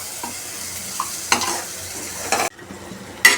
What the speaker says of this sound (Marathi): आता हे चांगलं परतवायचं.